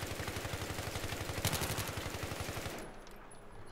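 Automatic gunfire in the video game Battlefield 3, a rapid, even stream of shots over a steady background for nearly three seconds, then stopping abruptly and leaving a much quieter scene.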